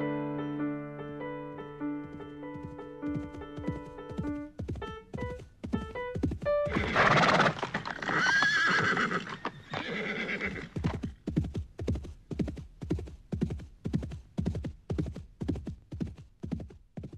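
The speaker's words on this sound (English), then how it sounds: "Here comes Brumby Jack, bringing the horses down the track." Tones give way to a horse's loud whinny, then a steady rhythm of hooves clip-clopping close by.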